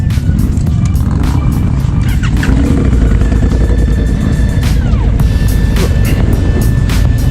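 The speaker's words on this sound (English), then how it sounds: "time to start the engine up and warm her up" A motorcycle engine idles and warms up at a charity ride event, a steady loud rumble running throughout with some traffic and background activity around it.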